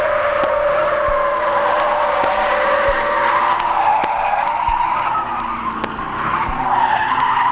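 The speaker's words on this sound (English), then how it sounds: "Listen to the Kingswood brake to take it at an incredible 50 miles an hour." A 1971 Holden Kingswood brakes hard into a tight hairpin on a closed road, its tyres squealing loudly and continuously with wavering pitch while the engine drones beneath.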